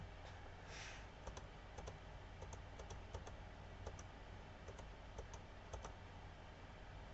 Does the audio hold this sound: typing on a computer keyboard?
yes